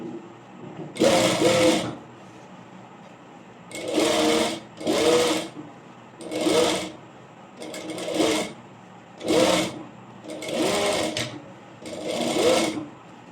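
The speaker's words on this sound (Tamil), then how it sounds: "ஸோ இங்கேருந்து நம்ம ஸ்டிச்சிங் ஸ்டார்ட் பண்ணணும்" A sewing machine stitches a frock sleeve in seven short, evenly paced bursts of rapid whirring, with brief quiet pauses between runs, heard close and without talking.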